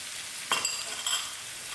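Masala frying in a pan gives a steady soft sizzle, broken by two brief scraping stirs.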